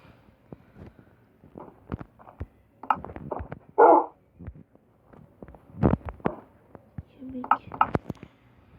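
A dog barks a few times in short bursts amid thumping game sounds and clicks, with a person talking nearby.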